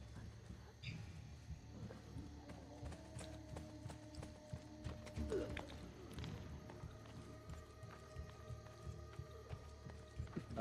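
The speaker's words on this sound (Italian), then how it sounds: "Ah, il cavallo che mi segue" Rhythmic hoofbeats of a galloping horse in Assassin's Creed Brotherhood clatter steadily alongside other game effects and tones, fairly quiet overall.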